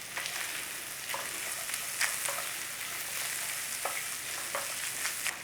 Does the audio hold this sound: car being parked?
no